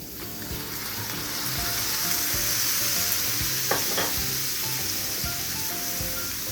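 Zucchini and smoked turkey sizzle steadily in a pan, a close, continuous frying hiss with scattered pops and faint stirring scrapes throughout, no voices.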